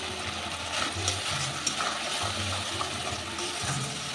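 Kalonji, green chilli, turmeric and Kashmiri chilli powder with mustard paste sautéing briefly in mustard oil: a soft, steady frying crackle with faint stirring scrapes throughout, no speech.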